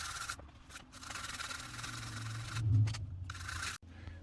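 A machine is scrubbed clean with isopropyl alcohol and a cloth, giving close, rapid rubbing and scraping strokes in short bursts, with a slightly heavier pass near the end and a brief pause just before.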